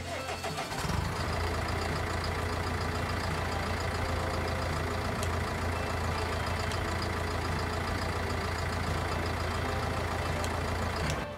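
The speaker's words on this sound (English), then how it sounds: "I'm going to be quiet so you guys can actually hear the engine." A steady, droning UTV engine in Farming Simulator idles continuously at close range, low and even, with a constant mechanical hum and no voices over it.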